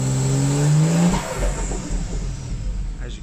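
A turbocharged Ford Falcon XR6T engine revs up in neutral on launch control with retarded timing, its rising tone holding loud and close before cutting back to a rough, lower idle rumble.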